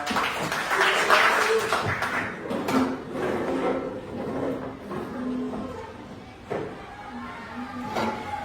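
Applause from a gathered group after the Indonesia Raya anthem is sung, a dense continuous patter of hands lasting several seconds with some scattered voices and knocks mixed in.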